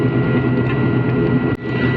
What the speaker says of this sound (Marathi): प्रायव्हेट जेट लँड झालं